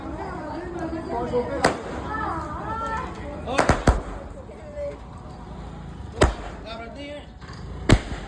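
Several sharp firecracker bangs go off at irregular intervals, with clusters of quick pops, over steady background chatter and voices during a Ganesh idol immersion celebration.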